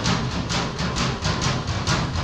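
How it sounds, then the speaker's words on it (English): A pottery studio ventilation system gives off a loud, steady alarm-like drone with regular pulses roughly every third of a second after its vents are closed, continuous throughout with no talking. "Now, since I've closed the ventilation, they're going to make a sound that is bad."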